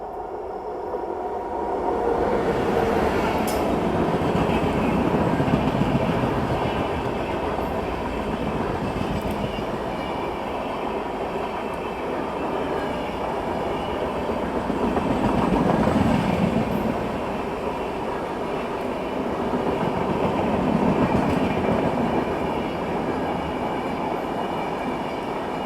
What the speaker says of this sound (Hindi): हेमकुंड एक्सप्रेस, ये देखते हैं ये कौन सी है।